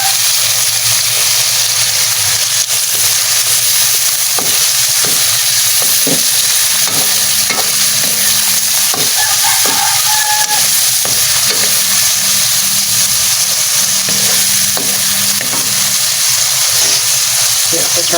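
Tomatoes sautéing in a hot pan for a Filipino ginisang tambakol with sitaw and mustasa, a steady broadband sizzle with intermittent stirring scrapes, continuous and fairly loud, with occasional faint speech underneath.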